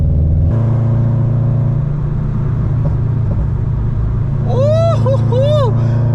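A Toyota 86 engine drones loud and steady while driving, with compressor whine, then a voice shouts excitedly near the end over the continuous rumble.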